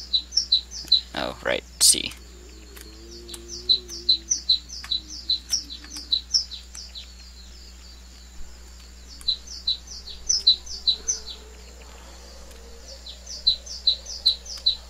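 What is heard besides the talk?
bird chirping in the video game WarZ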